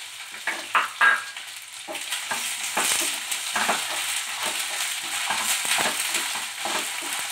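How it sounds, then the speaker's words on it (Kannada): Green peas, beans and mixed vegetables fry in oil in a pan for veg roll filling, a steady close sizzle with scraping stirs throughout. "ಇದನ್ನ oil ಅಲ್ಲೇ fry ಮಾಡಬೇಕು water add ಮಾಡಬಾರದು next ಬಟಾಣಿ ಹಾಕೊಳ್ಳಿ"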